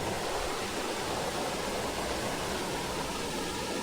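Waterfall on the grounds of an eco hotel, a constant broadband rushing roar, loud and unbroken, with no voices.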